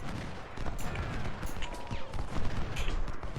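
Massed musket volleys in a Ultimate General: Civil War battle, a dense crackling fusillade with scattered distant pops and rumbles, steady and moderately loud.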